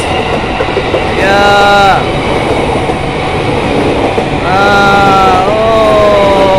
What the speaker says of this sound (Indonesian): tunggu keretanya lewat itu dari sana, dari arah Jakarta menuju ke Bogor ya